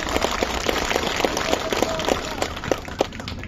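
A crowd at an outdoor election campaign rally claps in a fairly regular rhythm, the sharp hand claps repeating steadily for a few seconds against a busy background of murmuring voices.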